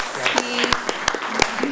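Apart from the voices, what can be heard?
applause at a board meeting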